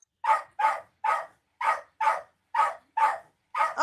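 A dog barks at a spinning weed whacker, eight sharp, close barks in a steady rhythm with brief silent gaps between them and no talking.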